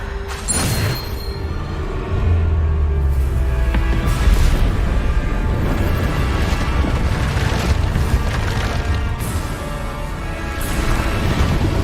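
Bombarda explosion spell cast in the video game Hogwarts Legacy: a loud, sustained rumbling boom with crashing debris and whooshing, continuous over battle noise without talk.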